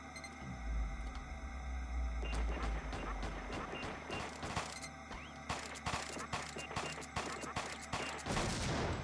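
In the video game X Squad, a silenced handgun fires at an automated sentry turret: a rapid string of sharp, clipped shots over a constant droning game background, with sporadic louder bursts toward the end.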